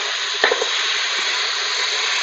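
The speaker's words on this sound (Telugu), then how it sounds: "ఇప్పుడు దీన్ని కాసేపు 2 minutes ఇదే నెయ్యిలో మళ్ళీ ఒకసారి వేపేసుకొని" Mashed carrot for carrot halwa fries in ghee with a steady, close hissing sizzle and one brief clack from a utensil early on.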